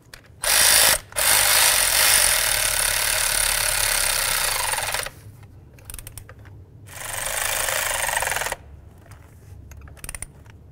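A ratchet drives ignition coil bolts on a 2006-10 Dodge Charger. It makes two loud, whirring bursts, one of about four seconds and a shorter one of about two seconds, with quiet gaps between.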